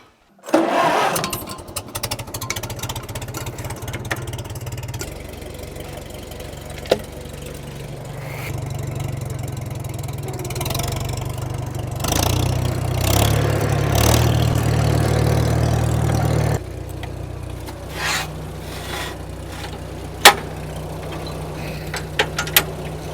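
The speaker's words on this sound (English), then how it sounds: "this is the last I gotta move out of here is the wagon and the tractor" A farm tractor engine runs steadily at a worksite in Wisconsin on a hot day, a continuous mid-pitched drone close by that swells louder midway, with a sharp knock near the end and no talking.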